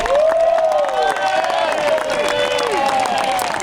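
A graduation ceremony audience applauds and cheers loudly and continuously, dense clapping mixed with whoops and shouting voices from a large crowd in the hall.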